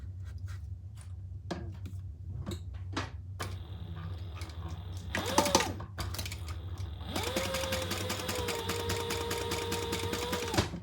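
A sewing machine top stitching card slots for a traveler pouch: scattered ticks and fabric handling, then a short whirring burst, then a longer steady motor run, all close and without talk.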